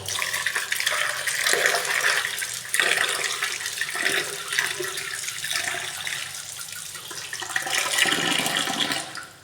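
Water pours back into a mixture of leftover cooked rice, turmeric powder and asafoetida being prepared as a plant fertilizer, a steady splashing stream running close and fairly loud for several seconds with a few surges.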